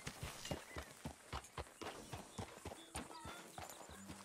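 Horse hooves clip-clopping at a walk in the Red Dead Redemption 2 video game, a steady, even run of soft thuds, faint and fairly close, with light background game sounds.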